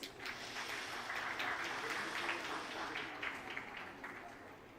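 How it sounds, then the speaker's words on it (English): An audience at a national leadership conclave in India applauds to welcome a session moderator and speakers, a steady wash of clapping from a crowd held at a fairly low, even level throughout. "Please welcome them with a round of applause."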